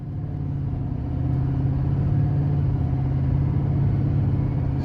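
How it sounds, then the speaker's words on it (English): A 2024 GMC Sierra 2500HD Denali pickup with the 6.6-litre Duramax rolls along the road, heard from the cabin as a steady low engine drone and road rumble that builds slightly and then holds even. "Let's go ahead and take this all-new 2024 GMC Sierra 2500 HD Denali out"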